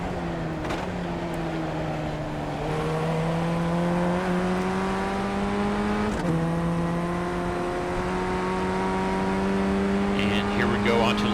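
Formula Ford FF1600 race car at Oulton in a racing game, its engine droning steadily close up with a few quick gear changes and a slight rise in pitch, faint other noise near the end.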